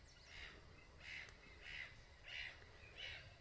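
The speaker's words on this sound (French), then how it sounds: "Il y a aussi des mouettes." Seagulls call outdoors from a distance, giving about five hoarse, evenly spaced cries over a steady background hiss.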